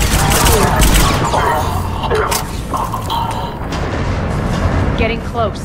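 Heavy cannon fire in the Mass Effect 3 video game during a hostile takeover battle on Omega, loud dense booms and crackling blasts in rapid succession, with game effects layered on top.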